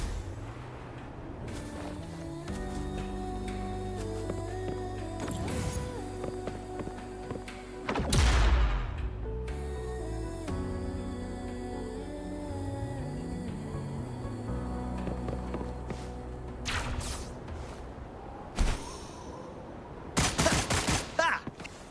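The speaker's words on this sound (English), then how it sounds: "Perhaps we can create an opening in this disk with an explosion." A blast of explosive tacitite fulminate breaks open a cliff in the video game Wuthering Waves, a heavy thud rising over a steady bed of game music, with a few sharper bursts later on.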